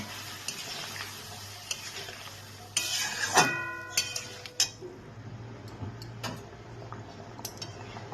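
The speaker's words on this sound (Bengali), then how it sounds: "সেই মশলাটাকে দিয়ে এবার আমি ভালো করে এটাকে কষিয়ে নেব" A ground paste of ginger, cumin, green and ripe chilies and tomato fries in a pan with a soft, low sizzle, while a utensil clinks and scrapes against the pan in scattered bursts.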